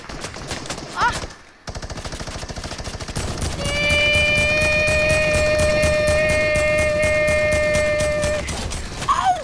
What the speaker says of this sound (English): the minigun takes really long to start up